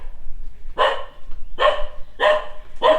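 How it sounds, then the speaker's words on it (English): Several dogs bark in four loud, close bursts spaced about a second apart, with no talking in between. "And dogs in here"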